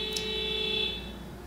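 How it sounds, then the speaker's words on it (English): A single sustained electronic beep tone, loud and close, holding for about a second before fading slightly. "I'm not in the mood for the horns beeping."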